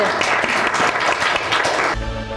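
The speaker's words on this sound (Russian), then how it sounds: "Благодарим вас, аплодисменты." Studio audience applause at a televised political talk program, dense steady clapping that fills the room for about two seconds before cutting abruptly into a musical sting.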